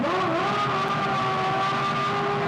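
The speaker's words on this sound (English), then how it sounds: "hear that engine racing in the background" A Formula 1 car engine at the 2001 Spanish Grand Prix in Barcelona screams at a steady high pitch, a continuous loud whine held throughout with no break.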